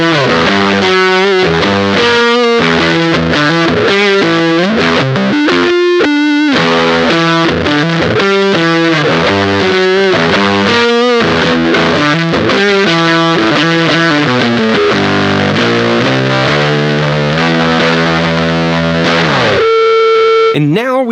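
Heavily distorted, fuzzy Squier Classic Vibe Precision Bass notes through a Whimsy Machines JEFF distortion pedal with oscillation on, played in a continuous riff with a synth-like oscillating buzz throughout, loud and close.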